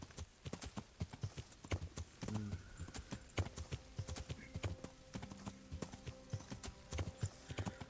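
Horse hooves clip-clopping in a steady trotting rhythm while riding in Kingdom Come: Deliverance, close and moderately loud, with faint game ambience and no talk.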